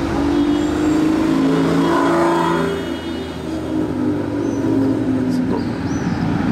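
An Aston Martin Vanquish Volante S drives past on a Monaco street, its engine a loud, steady drone that swells and fades as the car goes by, with traffic noise all around.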